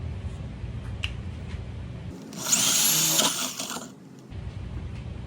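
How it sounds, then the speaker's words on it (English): A power drill whines loudly for about two seconds, a 1-inch spade bit boring a hole, then stops, with a low steady hum before and after. "drill 2 more holes. This time with the 1-inch spade bit."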